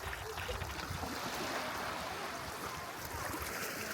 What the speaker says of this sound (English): You got the tide rolling in, fighting in, and then you got the push of the river going out.